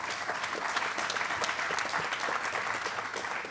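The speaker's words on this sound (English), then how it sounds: "Give a round of applause, Team Health." Audience applause at a hospital emergency department groundbreaking ceremony, steady, fairly distant clapping throughout, moderately quiet and without speech.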